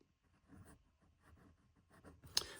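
A 14 karat gold nib on a Pelikan fountain pen scratches faintly across paper in short, quiet strokes, with a sharper scrape near the end.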